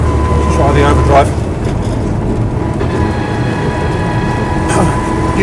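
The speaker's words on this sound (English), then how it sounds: "Usual slightly whiny, noisy overdrive." A Land Rover Series III 88-inch petrol Safari running on the road with its overdrive engaged, a steady engine drone and faint whine under continuous cabin noise while someone talks over it.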